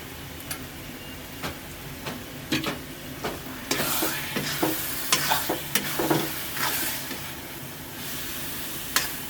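Butter sizzles in a pan for paneer pav bhaji, a soft steady frying hiss with sharp ticks and scrapes from a spatula stirring nearby, with no voice heard.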